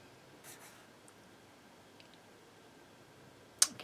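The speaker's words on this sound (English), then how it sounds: "I can hear my pencil scratching on the paper." A pencil makes faint, sparse scratches on paper in a very quiet room, ending with one sharper, louder scrape near the close.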